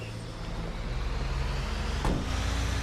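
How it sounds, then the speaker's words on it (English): A trailer truck rumbles through the streets of Los Santos in GTA V, a steady low engine drone with a brief hiss-like burst near the end, fairly close and continuous with no talk. "hijacking a trailer truck and chasing the producer through the streets of Los Santos"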